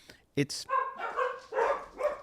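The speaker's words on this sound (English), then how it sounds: "Those are my dogs." Dogs barking at home in the background, a couple of sharp yips mixed with a person talking over them.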